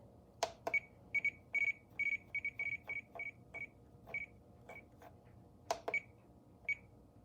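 Short electronic beep tones from a Radiomaster TX16S radio transmitter sound in an irregular series, some brief and some held longer, fairly faint against a low background hum.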